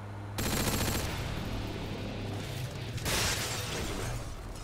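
Dense automatic gunfire from Modern Warfare 2 Remastered, a continuous loud rattle of rapid shots running the whole stretch with a harsher burst near the end.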